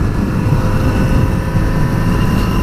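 Kawasaki Z900RS motorcycle engine running smoothly, a continuous low droning hum under steady wind noise, unbroken throughout.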